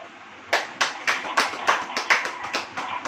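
A church congregation clapping hands together in a steady rhythmic beat, loud, close and without talk.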